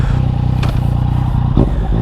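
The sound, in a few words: Yamaha MT-09 847cc motorcycle engine revving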